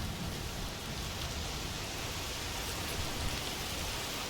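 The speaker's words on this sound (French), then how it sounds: "Il pleut très fort." Heavy rain pours steadily in A Plague Tale: Requiem, a dense, even hiss of falling water with no voices, continuous throughout.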